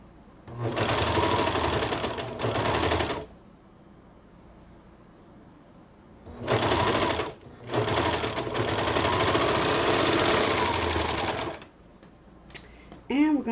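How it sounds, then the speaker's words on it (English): Serger stitching a fabric pant leg seam for bell bottom pants, running in several loud, steady buzzing bursts close up, separated by brief quiet pauses with light handling noise. "Just serge it only to the crotch area."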